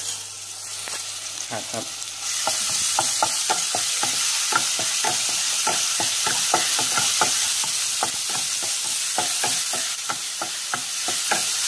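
Pounded chili and garlic hit hot oil in a wok with a sudden loud sizzle, followed by steady crackling frying and a rapid series of spatula scrapes and clinks, close up.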